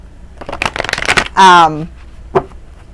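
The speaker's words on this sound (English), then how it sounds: "So we're going to pull 4 cards." Tarot cards are shuffled and drawn during a reading, giving a run of quick, crisp papery riffles and flicks up close, broken by a short burst of spoken voice and a final single snap.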